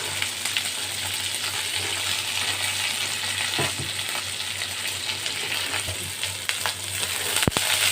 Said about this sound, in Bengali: পটল আর কুমড়ো এগুলোকে আমি ভেজে নিচ্ছি